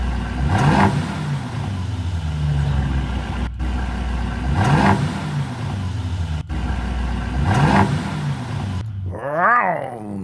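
A car engine revs hard three times at even intervals, each surge rising and falling back to a rumbling idle, close by, with a brief squeal at the end.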